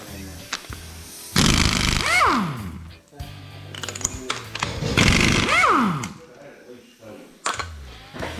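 A Thor impact gun works bolts on a 6.7 Cummins engine in two loud whirring bursts that wind down in pitch, with someone talking between and over them.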